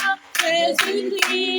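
A church congregation claps together to acclaim the Lord at an evening prayer service during a worldwide fast, three bright bursts of applause rising over a sustained sung or organ-like tone, close and loud.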